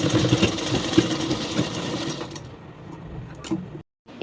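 A sewing machine runs a straight seam on a blouse, a close steady mechanical whir that slows and fades toward the end before a brief stop.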